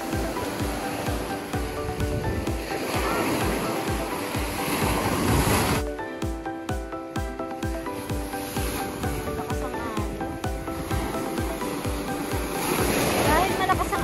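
Strong surf crashing continuously on a beach, a loud steady roar of breaking waves with wind buffeting the microphone and people talking over it.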